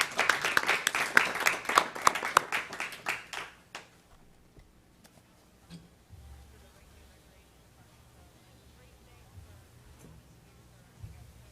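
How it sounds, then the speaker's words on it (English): At a youth commission meeting, an audience applauds after a homelessness presentation, with dense clapping for about four seconds before it fades into quiet room tone and faint shuffling. "Let's give another round of applause for Mr. Heary"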